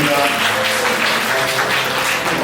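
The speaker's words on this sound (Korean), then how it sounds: "뜨거운 박수" Warm applause from wedding guests in a convention hall ceremony, a full, even wash of clapping sustained throughout with no break.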